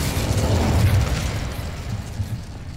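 The Incendio fire spell in the Hogwarts Legacy video game gives a loud, continuous roaring whoosh of flame with a deep rumbling body that fades slightly as it goes, with no voices over it.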